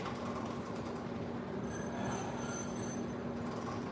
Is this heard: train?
yes